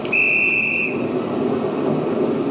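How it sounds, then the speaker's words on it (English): A train begins to move with a steady broad rumble, and a high whistle tone sounds near the start and fades within a second while the low roar carries on. "I was listening for the sound of his train starting."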